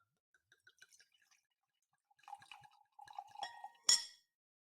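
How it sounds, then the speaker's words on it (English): Wine poured into a glass, heard as scattered soft drips and clinks, then a brief trickling pour, ending in a sharp glassy clink close to the mic. "So let's pour some wine."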